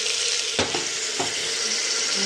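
Chopped onions sizzle and crackle in hot oil in a pan, a steady frying hiss broken by a few scraping knocks as a spoon stirs them.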